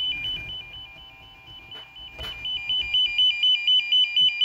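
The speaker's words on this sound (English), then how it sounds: "if you hold this, it'll beep as you come in close to it" A budget Ethernet RJ45 network cable tester probe gives a steady high electronic tone that breaks into rapid, regular pulsing beeps as it comes near the cable. The beeps are close and fairly loud, with a few soft handling clicks.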